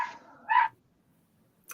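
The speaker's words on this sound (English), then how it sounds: "The dog wants out" A dog that wants to be let out gives a couple of short, sharp barks, close and fairly loud, separated by a moment of quiet.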